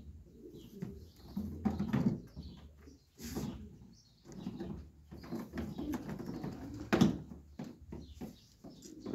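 Breeding pigeons coo softly in a loft, repeated low throaty calls overlapping one another at close range with faint rustling between them.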